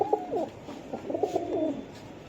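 Pigeons at a pigeon seller's coo softly and continuously, with several close, rolling low coos overlapping in a short burst.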